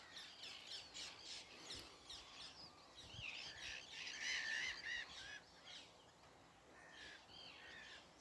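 Black-headed gulls and common terns call at the Lea Farm breeding colony in July: harsh squawks and sharp chattering cries overlap in irregular bursts, faint and somewhat distant, with no voices.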